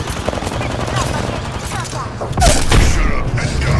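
Gunfire rattles in rapid, dense volleys close by, with a louder burst near the end over steady background din.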